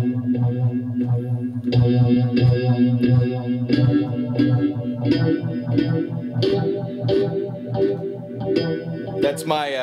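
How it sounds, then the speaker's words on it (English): Electric guitar played through an iRig Blueboard-controlled phaser effect into a small practice amp, with chords and picked notes ringing in a steady sweeping, swirling tone, loud and continuous across the passage. "Now phaser."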